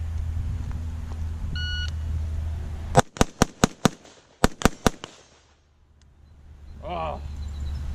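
Rifle shots from a Primary Weapons Systems MK116 Mod1-M, a rapid string of sharp cracks in two bursts, each followed by the faint metallic ring of bullets striking a steel target, then quiet outdoor ambience.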